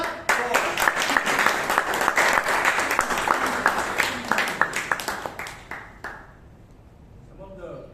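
Lively applause from a roomful of people at a Toastmasters club meeting in Bangalore, dense and steady with sharp individual claps standing out, then tapering off into a quieter room after about six seconds.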